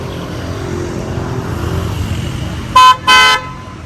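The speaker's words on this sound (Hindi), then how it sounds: "अभी आवाज दो, इधर हॉर्न मारो।" Two short, loud car horn honks in quick succession, rising over a steady low traffic rumble.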